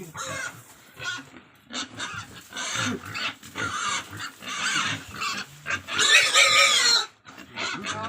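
A piglet in a barn grunts and squeals in repeated bursts, loud and close, with a harsher squeal near the end and no talk.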